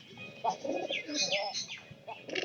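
Pigeons cooing continuously in a loft of domestic birds, soft low throaty calls overlapping with a few higher chirps, fairly close and steady throughout.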